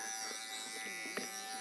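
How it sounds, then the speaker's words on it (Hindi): An electric hair trimmer cutting hair gives off a steady, close, high mechanical buzz with slight changes in tone as it moves through the hair. "ये जो है काफ़ी अच्छे से वर्क कर रही है, बहुत ही क्लीन ट्रिम कर रही है हेयर को।"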